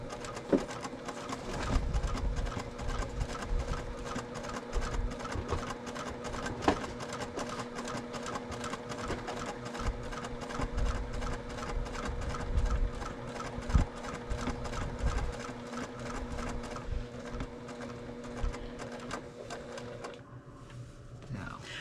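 A sewing machine stitches a heart pattern on a quilt with a steady, close mechanical whir and rapid needle ticking that runs almost throughout, while people talk over it; the machine stops near the end.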